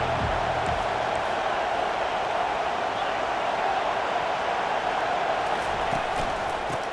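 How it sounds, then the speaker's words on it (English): A stadium crowd in College Football 25 roars in a steady, dense wash of noise that holds at the same loud level from start to finish, with no voices standing out. "This crowd bringing an ear-splitting welcome to their visitors."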